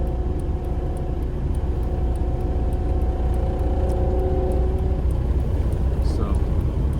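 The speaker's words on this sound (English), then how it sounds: "I think I need to put the smaller pulley on the power steering pump because you hear it You whirring." A power steering pump whirs faintly in a TDI-powered Jeep TJ Wrangler, a thin steady whine under loud engine rumble, with people talking over it.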